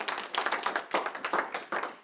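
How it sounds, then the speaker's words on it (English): Audience clapping in bursts at a real estate investment conference, a few groups of hands rising and falling in loose uneven waves, close and fairly loud with no talking. "Give yourself a round of applause for just showing up this morning,"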